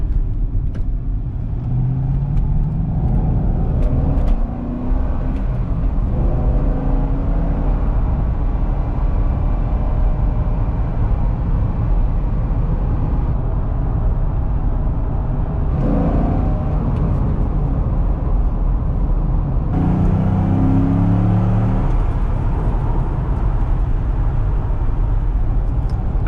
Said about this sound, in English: the exhaust sounds better as you get on the RPM range